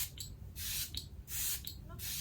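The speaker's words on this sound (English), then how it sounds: "I'm going to quickly spritz my skin with a little bit of the Patrick Tarshi's Thirsty setting spray" Patrick Ta Thirsty setting spray misted onto skin in three quick, airy spritzes, each a soft hissing burst separated by short pauses.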